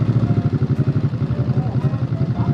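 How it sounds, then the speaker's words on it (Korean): A Ducati Monster with a 937cc Testastretta engine runs close by with a loud, steady, throbbing rumble of rapid even pulses that holds throughout. "몬스터의 시동을 걸어봅시다."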